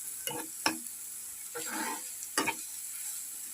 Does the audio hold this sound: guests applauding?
no